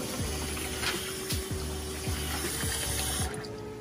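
Water runs from a kitchen tap in a steady rush, with a rhythmic mechanical ticking or pulsing beneath it, moderately loud and with no voices.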